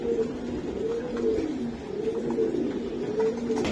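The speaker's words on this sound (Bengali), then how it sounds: "দর্শক এই লফটে প্রচুর পরিমাণ কবুতর আছে" Racing pigeons in a crowded loft give a continuous chorus of soft, overlapping coos in a steady rolling rhythm, close and moderately loud.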